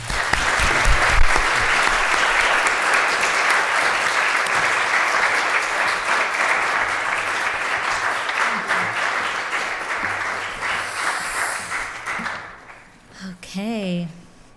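A lecture-hall audience applauds loudly and steadily, welcoming a speaker to the stage at an activist lecture; the clapping fades out near the end, and a brief voice follows.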